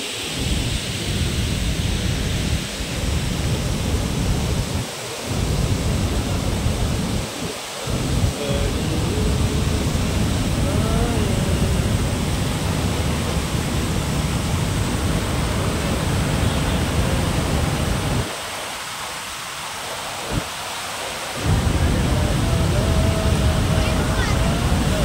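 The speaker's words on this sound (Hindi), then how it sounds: "तो ऐसा है हमारा उदयपुर का ये फतेह सागर, गिरता हुआ पानी" Overflow water pours from Fateh Sagar lake in Udaipur in a constant, loud, rushing roar that fills the whole stretch. The level dips only briefly a few times.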